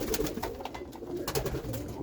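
Pigeons kept in a loft, among them homers, give soft, repeated cooing close by over a low room hum, with no talk.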